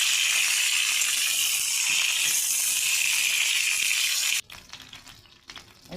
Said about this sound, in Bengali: আমি এখন এই ফুলকপিগুলো একটু ভেজে নেব, ভালো করে একটু নাড়াচাড়া করে নেবো